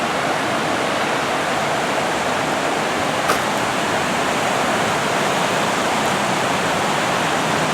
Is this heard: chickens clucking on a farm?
no